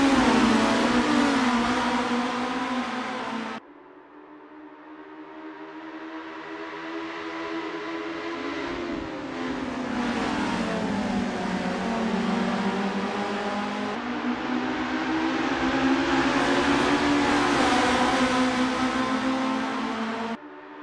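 Formula race cars at the start of a race in Assetto Corsa, engines screaming and climbing in pitch through repeated gear shifts, a dense close whine of several cars accelerating with brief dips between gears.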